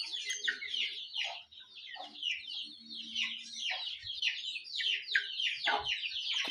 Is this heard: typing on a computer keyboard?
no